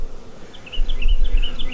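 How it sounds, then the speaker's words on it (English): Honey bees swarm and buzz around an opened hive in a bee yard as capped honey frames are worked; a dense, steady, close-up hum with high whining tones and a low rumble of handling beneath, no talking. "Lots of bees."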